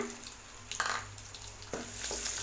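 Five crushed garlic cloves sizzle in hot oil with curry leaves for a small onion kara kulambu, a quiet steady fry with a few brief stirring scrapes.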